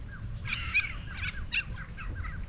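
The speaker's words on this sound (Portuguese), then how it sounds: "Só escutando os papagaios ali, ó." Harsh, squawking calls of parrots in short bursts at a moderate distance, over a low rumbling background.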